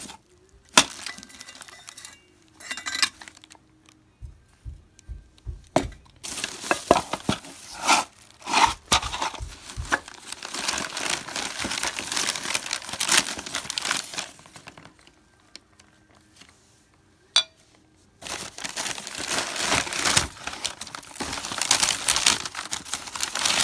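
Old dishes wrapped in paper are unwrapped close by, with bursts of loud crinkling paper alternating with sharp clinks of glass and china and short quiet gaps between handlings.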